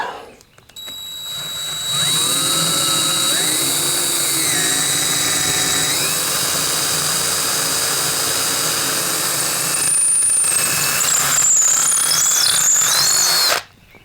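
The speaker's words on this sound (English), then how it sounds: "Is I'm going to drill a hole." A power drill whines steadily for about twelve seconds, its pitch wavering as the bit bores through epoxy resin, then cuts off abruptly.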